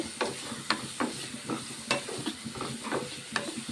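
Onions and green chillies fry in oil in a pan, giving a soft continuous sizzle broken by repeated scraping stirs from a spoon, quiet and close with no talking.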